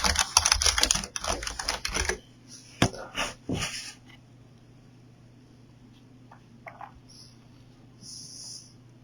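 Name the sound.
typing text on a computer keyboard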